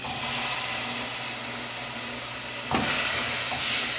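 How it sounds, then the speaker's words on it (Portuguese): Onion fries in a spoonful of oil for a chicken pie filling, making a strong continuous hissing sizzle up close, with a brief stirring scrape partway through and no voices. "Aqui eu vou deixar a cebola fritar para sair aquela água"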